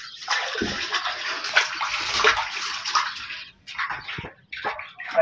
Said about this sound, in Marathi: तर गाईज टाकी चकाचक धुतो असतील.